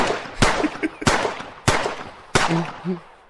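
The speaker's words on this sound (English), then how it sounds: "That was a lot of gunshots." Four loud gunshots crack out at roughly even intervals, each with a short echoing tail, with brief indistinct sounds between them.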